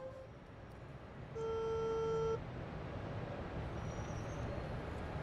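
An outgoing phone call produces one electronic ringback tone lasting about a second, steady and clearly pitched, over a quiet indoor background with a faint higher beep later.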